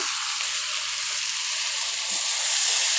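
Tomato and green chili frying in a pan for a fish curry with broad beans, giving a loud, steady sizzle and hiss that swells slightly toward the end, close up and without talk.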